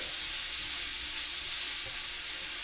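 Frozen vegetables stir-frying in a pan for jerk salmon fried rice, giving off a steady, bright, hissing sizzle that holds evenly close up with no talk over it.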